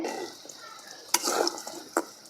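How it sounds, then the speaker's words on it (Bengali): A metal spatula scrapes and flips rice flour pitha frying in oil, giving a soft sizzle broken by two sharp clattering turns. "খুন্তি দিয়ে আমি একটু এই যে উলট পালট করে দিচ্ছি"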